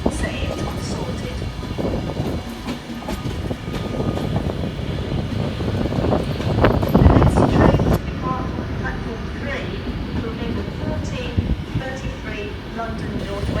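Trains rumble through Crewe railway station, a steady platform drone swelling into a loud passing roar midway before settling back, with voices faintly present in the background.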